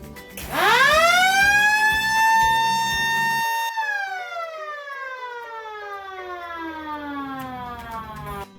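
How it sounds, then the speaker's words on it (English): A factory break-time siren on a programmable timer winds up fast into a loud, steady wail, then slowly drops in pitch as it runs down. The sound is close and stands alone. "With programmable timer to siren will sound at specified time that it is programmed."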